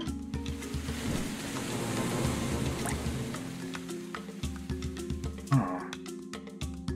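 Steady rain hiss with scattered drips and soft rumbling thunder underneath, a continuous wet wash at moderate level with no voices, in the video game Quench.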